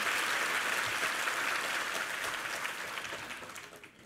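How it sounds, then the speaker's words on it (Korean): Church congregation during a Sunday service giving encouraging applause to the youth music team, a broad wash of many hands clapping that slowly fades out, fairly quiet and distant. "우리 뉴젠 자녀들 뮤찬팀에게 한번 힘찬 격려의 박수 부탁합니다"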